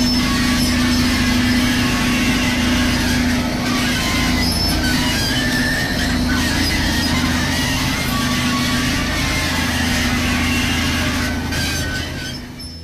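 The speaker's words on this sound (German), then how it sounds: "Dabei handelt es sich um einen Schleifwagen, der bei Eisenbahnschienen Unebenheiten beseitigt." Rail grinding train smoothing uneven railway tracks with grinding stones, a steady loud continuous grinding roar with a sustained hum and metallic scraping throughout, easing slightly at the end.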